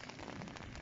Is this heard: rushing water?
no